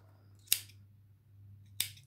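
Two crisp scissor snips cutting yarn during crochet work on a round daisy-pattern scrubber, evenly spaced about a second apart over a low steady hum, close and fairly quiet.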